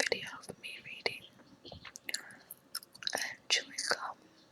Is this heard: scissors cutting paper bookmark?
no